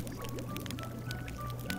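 Clear water from a jug pours steadily for under two seconds in The Book of Unwritten Tales, a soft, even trickle over faint game background music.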